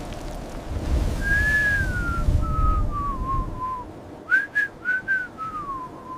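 Someone whistles long, gliding tones that imitate wind, over a soft low rumble of breezy noise.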